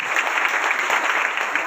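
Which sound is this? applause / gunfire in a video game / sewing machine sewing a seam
applause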